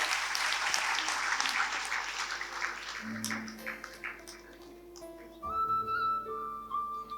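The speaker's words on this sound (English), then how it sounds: "Can we have a huge round of applause?" Applause at a college festival inauguration ceremony during a book launch fills the first few seconds loudly, then thins out as sustained tones and background hum take over.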